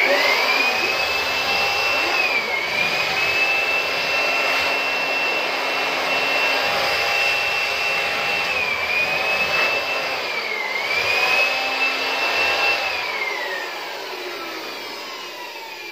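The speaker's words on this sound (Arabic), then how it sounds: "طبعا لما تيجي تشغلي البلور هتكوني سايبه مكان يخرج منه التراب" An electric blower runs steadily in a shop, blowing dust out, its loud continuous whine shifting pitch a few times as it moves, then easing slightly near the end.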